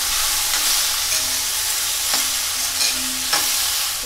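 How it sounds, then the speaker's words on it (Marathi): Chana dal, onion and turmeric stirred in hot oil for a ridge gourd stir-fry, giving a steady close sizzle with scraping stir strokes at intervals, no voices. "आता ढवळून घ्यायचा, जास्त वेळ ढवळायचा नाही"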